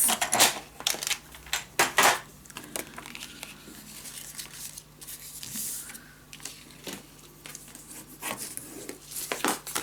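Paper being cut with hand tools while making a scrapbook mini album. Close, crisp snips and rustles come in bursts, separated by quieter stretches of paper handling.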